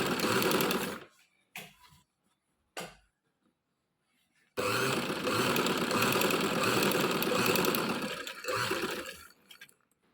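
A sewing machine stitches fabric for a Quran cover and envelope in several runs, a loud whirring rattle in short bursts at first and then one long continuous run before it slows to a stop.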